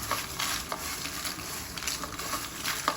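Masala nimki being tossed and mixed with spice, a soft continuous rustle with small scattered clinks and light crackling taps, fairly quiet and steady, no talking.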